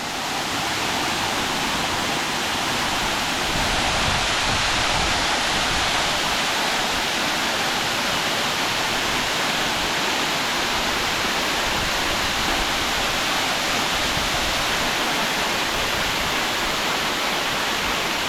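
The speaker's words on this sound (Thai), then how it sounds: "น้ำไหลลงมาจากตรงนู้นน่ะ" A waterfall in Ranong, Thailand, with water pouring down in a loud, steady, broadband roar that fills the whole stretch without pause, close and unbroken, with no voices over it.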